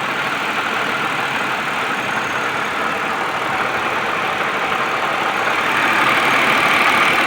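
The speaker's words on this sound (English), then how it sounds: "Engine sounds nice and healthy." A 1997 GTP car engine idles steadily and close, a continuous low rumble that holds even throughout, swelling slightly toward the end.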